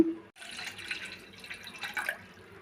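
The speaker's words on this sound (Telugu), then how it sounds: "ఈ గ్లాస్తో రెండు గ్లాసులు వాటర్ వేసానండి" A short burst of water poured from a glass into a pot, a steady splashing gush lasting a couple of seconds.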